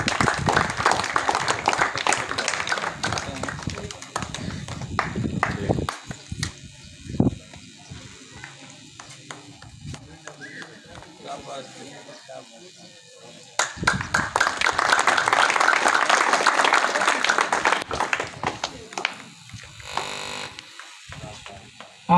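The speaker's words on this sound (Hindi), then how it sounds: "बच्चों की हौसला अफजाई के लिए तालियां बजाते रहें" At a school prize ceremony, an audience claps for students in two loud bursts separated by a quieter stretch of scattered sound, with people talking in between.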